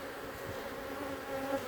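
Honey bees buzz in a continuous, close, even drone while frames are lifted from the hive during an inspection.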